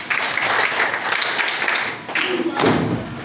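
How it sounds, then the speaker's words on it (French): A crowd at a school awareness meeting in Lukunga applauds in a dense, continuous wash of clapping, fairly loud, with a voice briefly audible partway through. "Applaudissez pour le monde"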